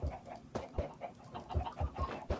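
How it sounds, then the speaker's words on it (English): A chicken in Minecraft clucking: a quick, close series of short, rhythmic clucks, about ten in a row with brief gaps, alone and moderately loud. "We got another chicken."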